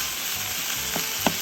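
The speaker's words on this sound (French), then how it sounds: "On laisse dorer tout ça gentiment. Il faut que l'oignon soit bien doré." Onion and bacon lardons browning in a frying pan, a gentle continuous sizzle with a couple of faint scraping stir sounds near the end, close and fairly quiet.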